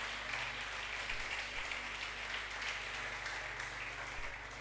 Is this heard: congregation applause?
yes